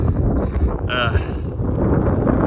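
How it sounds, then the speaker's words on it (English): Steady wind buffeting the microphone on a golf course, a dense low rumble that persists throughout with a brief gusty flutter partway in. "It's windy as all get out"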